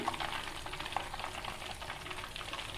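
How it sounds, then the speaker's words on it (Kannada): Ghee heats in a pan for rava laddu, giving a steady, soft sizzling hiss with faint crackles throughout, close and without speech. "ಇವಾಗ ತುಪ್ಪ ಕಾಯಿಸ್ತಿದ್ದೀನಿ"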